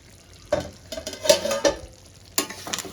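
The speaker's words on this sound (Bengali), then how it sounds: "নেড়ে দিতে হবে নাহলে তো তলায় লেগে যাওয়ার চান্স থাকবে" Butter chicken masala curry is stirred in a pan, with a handful of scraping strokes over a soft, low sizzle and no talking.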